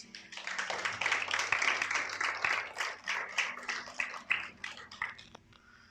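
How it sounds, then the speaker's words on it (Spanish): A church congregation applauds during a sermon, a crowd of hands clapping at moderate distance that rises quickly, holds, then thins into scattered claps before fading. "Denle un aplauso fuerte al Señor."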